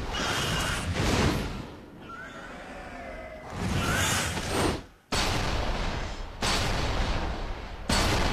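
Gunshots in the video game Resident Evil 5, several loud bursts of firing separated by brief quieter gaps, close and punchy over a dense game background.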